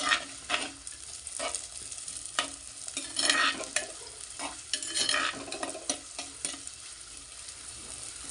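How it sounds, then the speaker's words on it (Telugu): Onions fry in oil in a clay pot while being stirred, a steady sizzle with repeated scraping and clacking strokes from the spoon, close and clear, with no talking. "ఆనియన్ వేసి కొద్దిగా కలపాలి"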